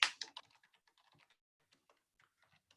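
Keystrokes on a computer keyboard while typing in Mathematica: a quick loud burst of three or four clicks at the start, then sparse, soft taps scattered across the rest, close and alone.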